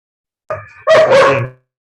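Two dogs at play: one lets out a short yip followed by a louder, drawn-out bark-whine, close and clear against silence.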